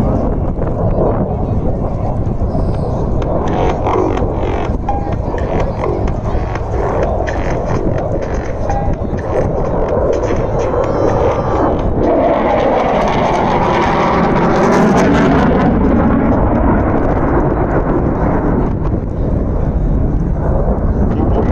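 A military jet flies an aerobatic display over the runway at the Aero India 2019 air show. A loud, continuous engine roar fills the air and swells toward a peak before easing off.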